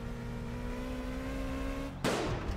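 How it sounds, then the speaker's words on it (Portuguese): In the My Summer Car video game, a car engine drones steadily with a tonal hum before a sudden sharp exhaust backfire pop bursts out near the end. "Esse carro dá muito pipoco no cano."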